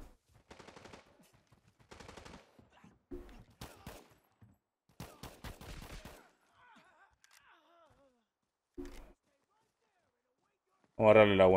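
Bursts of rapid automatic gunfire in the video game Arena Breakout, several separate volleys, with quieter voice-like sounds in the gaps and a loud blast at the end.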